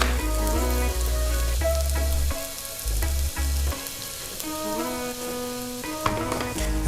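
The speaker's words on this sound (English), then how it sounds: "We're gonna stir this a little bit. These vegetables are already nice and soft." Softened vegetables are stirred in butter in a pot, giving a steady sizzle with a few soft stirring scrapes, partly buried under prominent background music.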